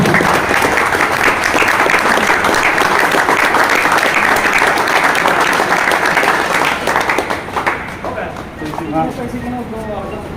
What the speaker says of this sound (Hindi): जोरों से तालियां बजा भाई।